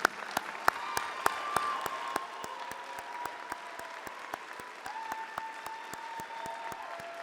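An audience at an alumni award ceremony claps in a thin, scattered patter of individual hand claps that carries on steadily and fairly quietly throughout.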